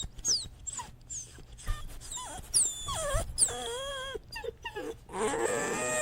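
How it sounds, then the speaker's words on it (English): A dog whines and whimpers for food in a series of rising and falling high-pitched moans, with short gaps between them, close and fairly loud, building to a longer drawn-out whimper at the end. "I think that's a dog, right? The dog is complaining, asking for food."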